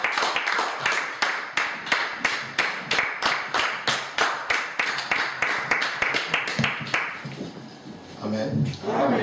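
A church congregation claps for the Lord in a steady, fast rhythm, the hands ringing close and bright, with voices rising toward the end.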